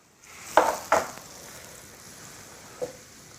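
Hot rapeseed oil poured over eggplant, giving two short, sharp sizzling bursts close by, followed by a faint hiss and a smaller final spatter.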